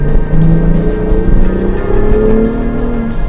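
A Ford Bronco Raptor's engine revs loudly with its exhaust in Baja mode, a deep throaty rumble rising and falling in pitch through repeated close-up revs.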